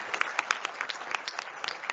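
Scattered applause from a small audience at a campus inauguration round table, with distinct individual claps in a loose, uneven rhythm rather than a dense roar.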